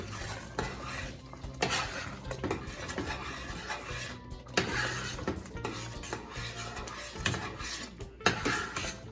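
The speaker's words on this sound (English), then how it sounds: "Continue to stir." Eggplant curry being stirred in a pot, the spoon scraping and knocking against the metal in a steady, close, repeated rhythm, with a faint sizzle underneath and no voices.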